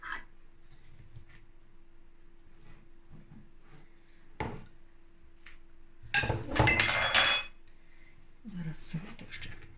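Glass jar of pickled cucumbers with garlic and dill being closed, its lid screwed on tighter in a burst of clinks and rattles, preceded by scattered taps in a quiet kitchen.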